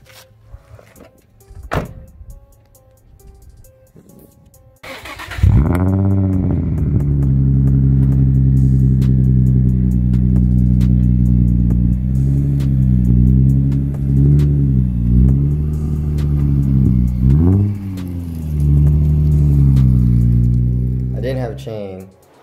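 Nissan G35 drift car fitted with new wheel spacers starts up and drives with a loud, steady, close engine rumble and slight revving swells, after a few seconds of quiet knocks and handling noise.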